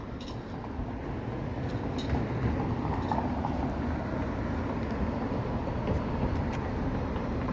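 Riding a Toronto streetcar: a steady, continuous rumble and rattle of the moving car fills the cabin, with faint high squeals and no voices.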